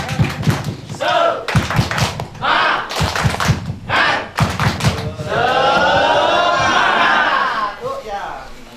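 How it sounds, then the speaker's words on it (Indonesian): A training group doing a rhythmic spirit clap, sharp hand claps in a patterned beat mixed with shouted voices, followed by a sustained loud crowd cheer. "Tepuk semangat."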